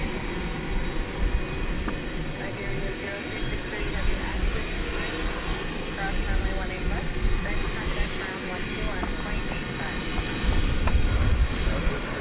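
A trijet airliner's jet engines roar steadily at DFW airport at night, a loud continuous rumble that swells slightly toward the end, with someone talking over it.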